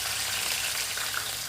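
Onion sizzles in hot oil in a kadhai, a steady, dense crackling hiss that stays constant and close throughout with no talking.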